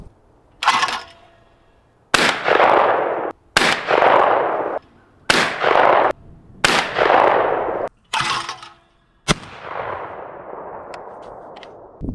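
Stoeger M3020 shotgun firing outdoors: about eight loud, booming shots spaced roughly a second or two apart, each followed by a long rolling echo that fades before the next.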